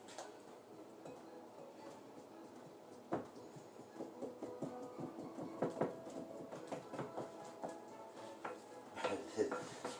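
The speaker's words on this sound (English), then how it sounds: "So I finally got Emily to do the dishes" Dishes, pots and cutlery clatter and clink at a kitchen sink while someone washes up, with irregular knocks and scrapes that grow busier and louder toward the end, and faint voices underneath.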